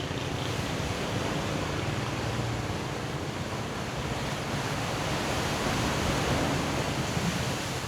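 Ocean waves at a seaside yoga class, a constant broad roar of surf with some wind buffeting the microphone, steady and fairly loud with no speech.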